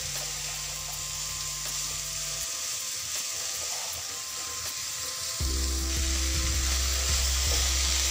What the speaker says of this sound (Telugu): ఇదంతా ఈ ఉప్పు కారం మసాలాలు ఉన్నాయి కదా, అందులో బాగా మిక్స్ అయ్యేలాగా మొత్తం కలిపేసుకోవాలి.